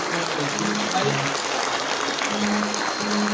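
A crowd at a Kenyan political gathering breaks into steady, dense applause, a continuous wash of many hands clapping at even loudness for the full stretch, with a faint voice underneath.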